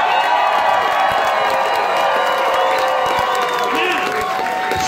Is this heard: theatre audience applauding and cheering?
yes